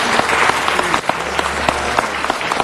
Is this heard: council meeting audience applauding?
yes